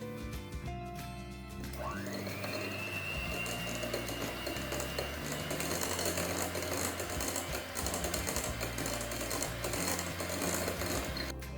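An electric mixer whirs into doughnut batter with eggs, strawberry essence and vanilla essence, starting up with a rising whine and then running loud and steady throughout.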